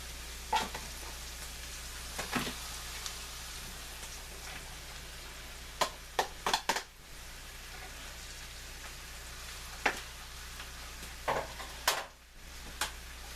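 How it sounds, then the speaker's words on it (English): Mushrooms frying in a pan give a faint, steady sizzle, broken by scattered sharp clacks of a utensil against the cookware. "I think it's safe to go ahead and add the mushrooms now."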